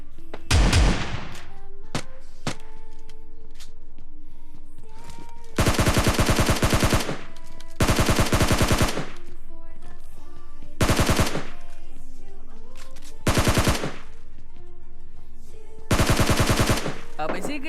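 Automatic gunfire in PUBG Lite comes in about six loud, rapid bursts of a second or so each, separated by quieter stretches with faint game sounds.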